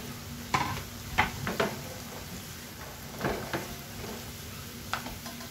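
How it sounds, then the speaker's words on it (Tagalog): Fried tofu tossed into a pan with chili and stirred, soft sizzling beneath a handful of scraping, clinking stir strokes spaced irregularly, fairly quiet and close. "Ilalagay ko na yung pinritong tofu or tokwa."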